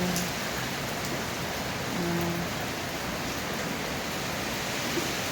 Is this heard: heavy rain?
yes